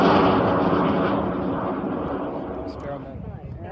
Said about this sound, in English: Launch detected.